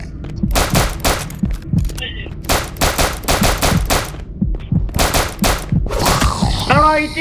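Rapid bursts of automatic gunfire from the multiplayer horror shooter Asylum 77, loud and repeated in clusters across the whole stretch, with brief gaps between volleys and game effects near the end.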